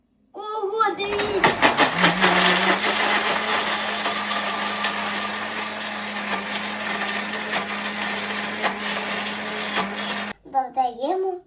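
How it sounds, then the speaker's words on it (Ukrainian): A blender purees a whole unpeeled orange for an orange cake, a loud steady motor whine that grinds on for several seconds, with someone talking just before it starts and again right after it stops. "І ще цілий апельсин потрібно кидати у блендер."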